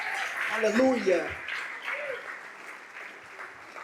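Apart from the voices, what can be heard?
congregation applauding in church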